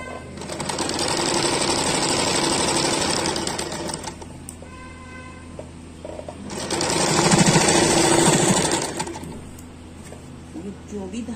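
A sewing machine stitching underwear fabric runs in two loud, fast-rattling bursts separated by a quieter pause, close by, with faint birdsong in the background.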